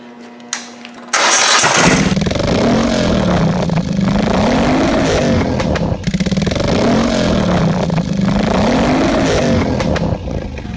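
A turbocharged Moto Guzzi motorcycle engine is started after a few clicks, catches abruptly and runs loud and near, revving in repeated rising and falling sweeps.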